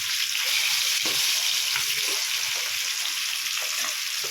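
Oil sizzles and crackles steadily in a pan as fish fries, a dense hiss with occasional soft pops.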